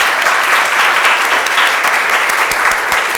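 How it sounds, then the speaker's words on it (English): A seminar audience at a mission-aligned investing event breaks into loud, continuous applause, dense overlapping claps filling the room at steady volume throughout. "Give yourselves applause."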